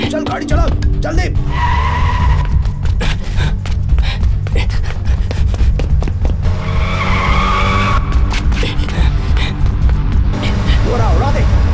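A car peels away in an action film chase scene with loud, drawn-out tire squeals and a revving engine. Hurried shouting voices and other sound effects crowd the mix, which stays close and intense throughout.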